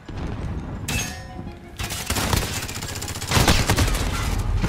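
Rapid P90 submachine-gun bursts ring out in Call of Duty Modern Warfare, loud, close fusillades of shots that break off briefly and then return harder, with no talking over them.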